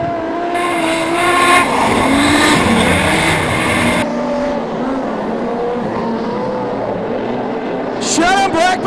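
Modified production race cars, including a Ford Cortina, roar around Lismore Speedway at night, a loud continuous engine drone with shifting pitch as cars pass, under an announcer's commentary.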